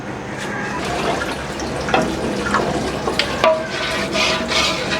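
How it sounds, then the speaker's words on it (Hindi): Water poured into a pot of beef nihari, a steady splashing, gurgling stream running for several seconds with louder bursts as it lands, close and fairly loud with no talking. "अब यहाँ पे हमने इसमें पानी शामिल कर देना।"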